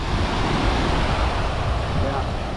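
Waves at the beach in Progreso, Mexico: a steady, broad wash of surf and wind noise, loud and continuous with no distinct individual breakers, close to the microphone.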